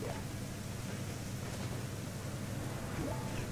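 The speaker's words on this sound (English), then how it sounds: "At least the rain works." Steady rain falls in the video game Zelda: Ocarina of Time, a continuous dense hiss that stays even and unbroken throughout.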